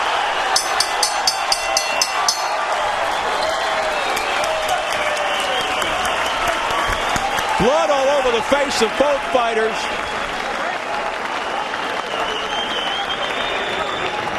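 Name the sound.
boxing crowd applauding the fighters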